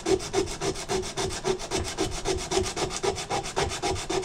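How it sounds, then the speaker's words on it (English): Coarse 40-grit sandpaper worked back and forth over a handmade knife in steady, rapid strokes, a loud rhythmic rasping that repeats about twice per second with no talking. "so far I've sanded this down right now to this is like a 40 grit."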